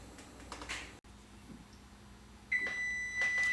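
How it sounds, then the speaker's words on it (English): A single sustained electronic beep from an oven timer sounds after some quiet kitchen clatter and light tapping while baking bread. "Well, there's the beep."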